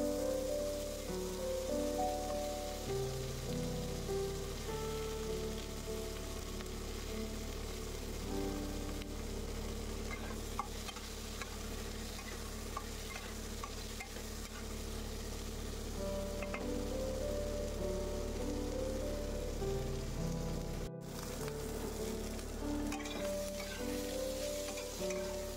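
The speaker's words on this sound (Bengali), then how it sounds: "এবার ভালো করে পটলগুলো আমি একটু হালকা করে ভেজে নেব।" Pointed gourd (potol) frying in a pan of oil with dried and green chillies, a steady, fairly quiet sizzle that runs on for a long stretch with occasional stirring scrapes.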